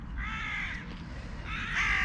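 Crows caw in two bursts of harsh, repeated calls, fairly close and loud over faint outdoor background noise, with a short pause between the groups.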